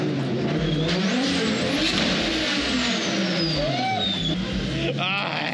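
A pink R32 Skyline drift car with a swapped RB25 engine revs hard and bounces off its rev limiter in rapid stuttering bursts, loud and close, while people talk over it.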